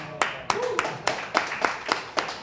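A single person claps hands in a slow, uneven rhythm, about nine or ten sharp claps, close and fairly loud, with a brief murmur of voices in the background.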